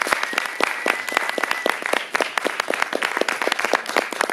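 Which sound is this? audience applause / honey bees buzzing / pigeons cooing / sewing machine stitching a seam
audience applause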